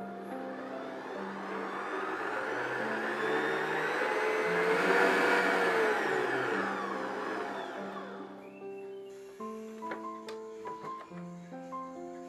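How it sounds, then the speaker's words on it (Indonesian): Electric mixer beating eggs and sugar for brownie batter, a steady whirring drone that swells and fades before cutting off, leaving light clinks and background noise; no talking. "Kemudian masukkan gula yang sudah dihaluskan tadi, kemudian mixer sampai semuanya tercampur."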